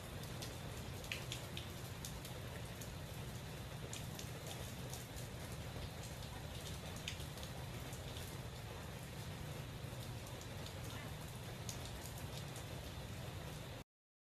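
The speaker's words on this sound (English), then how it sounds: "the torrential rain, a gale force wind, swept across the city" Torrential rain lashes Rome during a violent storm with gale-force wind, a dense, steady roar of downpour holding at constant loudness throughout, with scattered sharper drop impacts and no voices.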